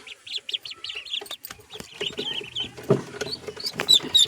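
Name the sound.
ducklings calling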